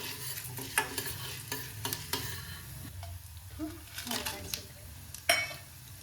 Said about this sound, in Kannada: ಈಗ ಧನಿಯಾ ಮತ್ತು ಜೀರಿಗೆನ ಹಾಕ್ಕೊತೀನಿ. ಒಂದು ಸ್ವಲ್ಪ ಫ್ರೈ ಆದಮೇಲೆ